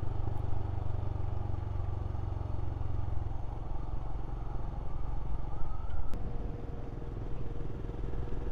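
A Royal Enfield Scram motorcycle rides along a main road in Snowdonia with a steady engine drone and road rumble. A few clattery knocks come through the continuous noise.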